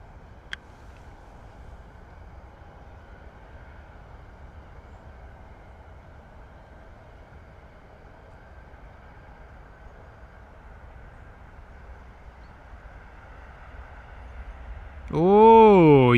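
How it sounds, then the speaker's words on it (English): A Ryanair airliner inbound from Turin arriving at London Stansted Airport, a low steady rumble building over many seconds before a loud, close engine roar swells near the end, with no talking. "Here we go, Ryanair coming in from Turin."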